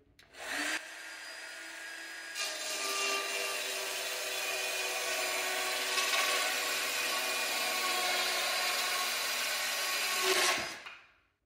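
Glued parquet flooring cut upside down with a power saw, a steady loud buzzing whine that runs unbroken for about ten seconds, starting and stopping abruptly, with no talking.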